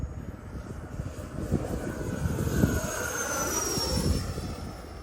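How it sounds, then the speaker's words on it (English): An FMS Scorpion 90mm V2 radio-controlled ducted-fan jet makes a full-speed pass, a steady loud rushing whine that swells and shifts pitch as it sweeps past with no voices. "So I'm doing a full speed pass right now."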